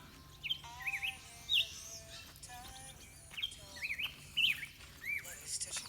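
Birds in a garden chirp and tweet repeatedly at close range, bright high calls in irregular bursts over a quiet outdoor background.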